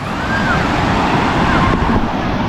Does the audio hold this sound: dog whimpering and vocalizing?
no